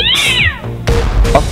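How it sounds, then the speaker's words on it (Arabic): A cat meows loudly and close by in two distinct calls, the first a drawn-out wavering cry and the second shorter and harsher, with no talking. "بس يا قطة"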